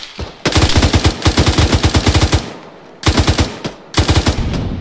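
Automatic gunfire in the ARMA 3 video game, loud rapid bursts of shots in close succession, several strings separated by short pauses.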